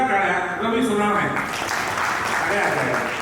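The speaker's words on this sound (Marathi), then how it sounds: "त्याच्यासाठी एकदा जोरदार टाळ्या" An audience at a public lecture breaks into applause for Ravi Sonawane. A voice speaks over a PA first, then a dense, steady wash of clapping fills the hall.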